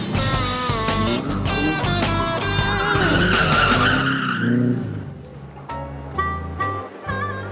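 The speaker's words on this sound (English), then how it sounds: "This is a time trial, and they're all in identical cars, and they've got to negotiate this course in the fastest possible time." Identical cars on a time trial course skid with a loud, whining tire squeal and revving engine, the sound rising and sweeping before easing into lower engine rumble with background music.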